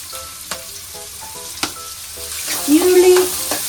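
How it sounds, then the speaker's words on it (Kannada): Chopped onions sizzling in a hot oiled pan for paneer butter masala, a steady frying hiss with a few sharp clinks of a spoon and a louder burst of sizzle as more onion goes in near the end; no talking. "ಇದಕ್ಕೆ ಸ್ವಲ್ಪ ಈರುಳ್ಳಿ ಆ್ಯಡ್ ಮಾಡ್ಕೊತೀನಿ ಒಂದು ಕಪ್ಪಷ್ಟು ಈರುಳ್ಳಿ"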